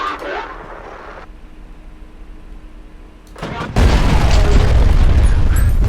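Contact grenade from the shooter game Selaco going off: a muffled thump, then a brief quieter lull before a loud, sustained roaring blast of shockwave that fills the rest of the moment.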